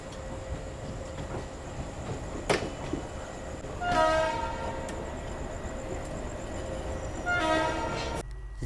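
The Ranikhet Express passenger train rolls along steadily after leaving Delhi, with a continuous rumble and faint rail clatter and two loud horn blasts at moderate distance partway through.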